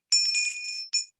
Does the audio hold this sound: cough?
no